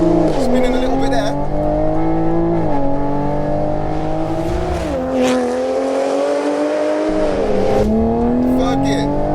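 A tuned 460bhp Stage 2 MKV Toyota Supra accelerates hard, its loud engine note climbing steadily through the revs with brief dips at the gear changes, the wheels spinning as it pulls, and the car's engine droning throughout.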